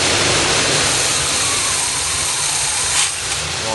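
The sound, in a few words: 1978 G-Body 403 V8 engine running, not warmed up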